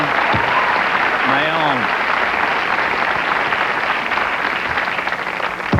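Steady studio audience applause fills a late-night talk show set, with a voice whooping and calling out briefly near the start before the clapping carries on evenly.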